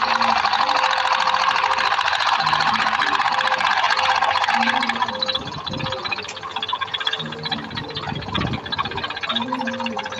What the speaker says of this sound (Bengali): নিরিখ করে সেলাই দেবো, স্ট্রেট সেলাই